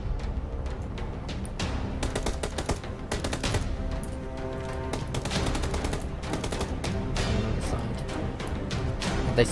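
Rapid bursts of gunfire in PUBG aimed at a buggy's tyres, with repeated sharp shots coming in clustered volleys throughout, loud and close over a steady background.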